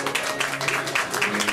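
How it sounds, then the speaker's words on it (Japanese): An audience at an idol group's CD member announcement event applauds steadily, a continuous wash of clapping heard under a faint background tone. "皆さん大きな拍手をお願いします。"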